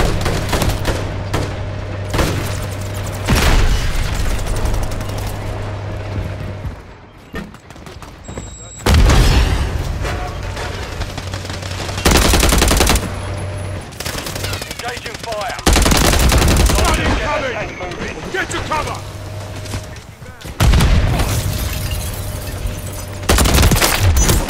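Gunfire and explosions in Modern Warfare III, sustained machine-gun bursts and booming blasts in loud stretches broken by short gaps, with a low humming drone and voices over the combat.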